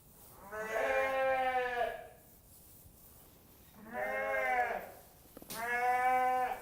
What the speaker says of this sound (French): ces petits agneaux c'est mes bébés, c'est mes petits agneaux que j'élève au biberon au départ et puis ensuite au seau